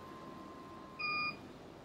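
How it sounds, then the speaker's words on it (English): A single short electronic beep from a digital height gauge measuring a hole's bore diameter, clear and brief, over a quiet background hum. "It beeped again, so I have to move it just a little bit more."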